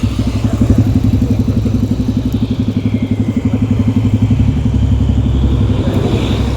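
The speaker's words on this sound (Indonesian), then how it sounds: "Mesin kendaraan dinyalakan. Satu persatu motor bergerak meninggalkan Desa Lelekaa." Motorcycles on a rough trail leaving a rural village throb with a loud, close, steady engine chug that holds throughout without a break; no one speaks.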